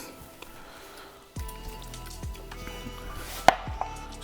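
A knife chopping red onion finely on a cutting board, with a handful of crisp, close chops spaced irregularly over a quiet kitchen background.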